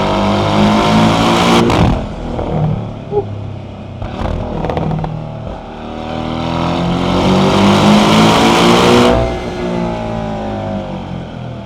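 A mid-engine sports car revs hard and accelerates along a canyon road at night, the engine note climbing and falling through gear changes, loud and close, with a brief shout from the driver over it.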